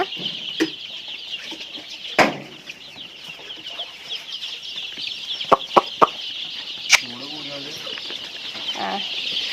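Hens clucking steadily at a poultry farm, a dense continuous chorus of birds with occasional sharp knocks and clatters nearby.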